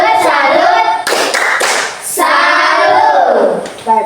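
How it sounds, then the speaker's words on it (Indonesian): A group of people claps hands in several uneven bursts, loud and close, with some voices mixed in between the claps. "Mari kita beri tepuk salut."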